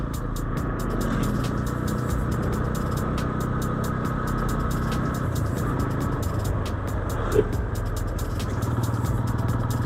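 A Bajaj Pulsar N160 motorcycle being ridden, its engine giving a steady, close droning hum with wind rush that runs without a break for about ten seconds.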